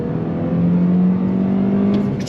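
A 2022 Toyota Corolla hatchback engine with a six-speed manual drones steadily from inside the cabin, holding a rising tone as it accelerates, loud and close.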